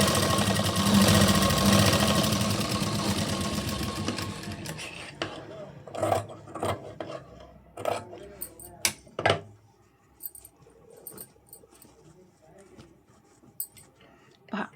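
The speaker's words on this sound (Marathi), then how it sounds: "लगेचच बाजूला दुसरी शिलाई देऊन घेते" A sewing machine stitches a katori blouse seam in a fast, steady whirring run for about five seconds, followed by scattered clicks and handling noises as someone talks.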